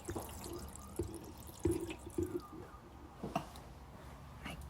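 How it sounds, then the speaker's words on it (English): Water poured into the 6-litre tank beneath a VIBMI portable countertop dishwasher, giving soft, fairly quiet gurgles and splashes with a few sharper drips. "Pouring this into the water tank here that it sits on."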